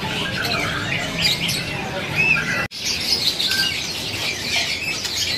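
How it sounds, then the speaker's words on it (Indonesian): A pied white-rumped shama (murai batu blorok) at a bird stall sings in bright, squawky chirps and whistled phrases, loud and close, continuing throughout with a brief dropout midway and faint background chatter. "Jarang ada nih, murai batu blorok."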